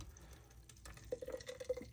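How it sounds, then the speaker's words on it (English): Paper pulp poured into a squeeze bottle, giving soft wet drips and a short gurgling fill that grows busier toward the end, close and quiet. "I want to fill up my squeeze bottle, as we do almost every time, with the pulp"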